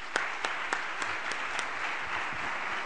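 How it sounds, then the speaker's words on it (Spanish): Audience applause welcoming a speaker to an ethics and economics lecture, a steady moderate wash of many hands clapping at some distance, with a few sharper individual claps standing out. "Quisiera dar la bienvenida al doctor Samagni con un fuerte aplauso."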